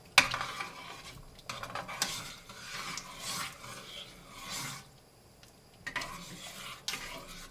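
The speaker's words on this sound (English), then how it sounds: "We're going to give this a little bit of a mix." Carrots being stirred in a pot for split pea soup, soft repeated scraping and swishing strokes with a faint sizzle underneath, fairly quiet and close.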